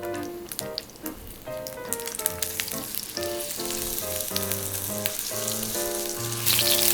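Green onions sear in duck fat in a pan for duck nanban soba, a bright steady sizzle close up under tonal background music, growing louder near the end.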